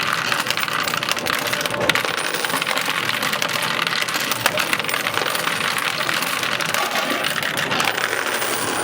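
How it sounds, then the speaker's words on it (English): A steady, dense clatter of many quarters tumbling and clinking together in a coin pusher game, continuous and close throughout. "up close and personal sound of the coins falling"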